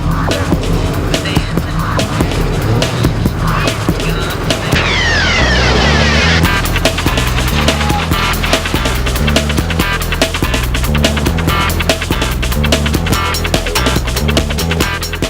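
Cars speed along a sandy beach in Washington State, a continuous loud rush of engines and rolling tires with rapid crackling bursts and a brief hissing swell midway.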